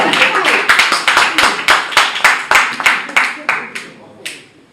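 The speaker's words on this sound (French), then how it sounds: "Il va applaudir. Applaudissez." An audience at a press conference claps in a steady rhythm, with roughly fifteen sharp, evenly spaced beats. The claps are close and loud, and they slow and fade near the end.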